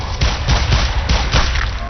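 Rapid gunfire rattles in the video game Escape Dead Island, a dense, loud stream of overlapping shots with a few stronger bursts, heard without any talking.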